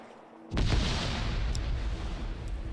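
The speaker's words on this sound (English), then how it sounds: "I'm seeing grenades getting thrown all around." A grenade blast in a World War II shooter match hits sharply after a quiet moment, followed by a rolling rumble with a few faint distant pops.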